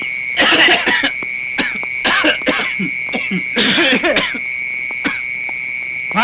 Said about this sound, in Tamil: நாங்க இருமல் பண்ணி சிக்னல் கொடுக்குறோம்